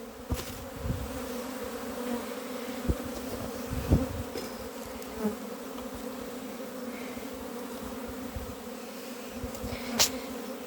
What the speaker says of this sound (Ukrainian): Це все молода бджола літає.